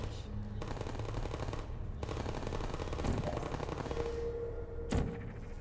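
Rapid turret gunfire in the Portal video game, a dense continuous rattle of shots running throughout at moderate level, with a brief sharper burst near the end.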